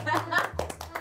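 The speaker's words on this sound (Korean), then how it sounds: "영혼 없는 박수" A few sparse, half-hearted claps ring out close by in a small studio setting, irregular and uneven, with people chatting and laughing over them.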